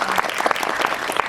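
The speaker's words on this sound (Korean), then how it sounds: "우리 신인 감독 김민주 감독에게 박수 한번 부탁드릴게요" A cinema audience at a Megabox COEX screening Q&A claps for new film director Kim Min-ju, a short, dense burst of many hands clapping close together.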